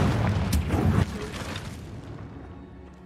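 A booming blast from the Confringo explosive spell in the game Hogwarts Legacy, one loud burst for the first second that then fades into a long rumbling tail.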